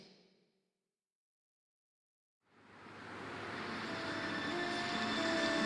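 After a brief sound and a couple of seconds of silence, the Kerala Express rumbles in and builds steadily with faint metallic squeals, loud and continuous.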